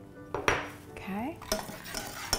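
A spoon scrapes and clinks around a bowl, stirring a coconut sugar and cayenne pepper mixture in a few close, brisk strokes with a short pause between them.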